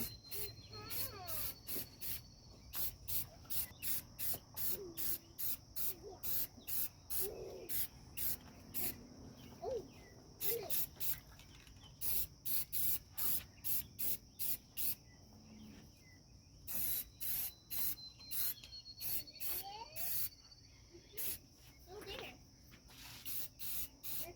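Spray can bursts misting paint onto a vehicle suspension, reaching inner parts: many short hissing sprays in quick repeated pulses, close and fairly loud, with brief gaps between and no talk.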